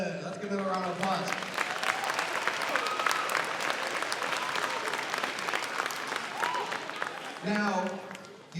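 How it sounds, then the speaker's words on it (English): An audience at an elementary school beginning band concert gives a steady round of applause lasting several seconds, with someone speaking briefly before and after it. "Let's give them a round of applause."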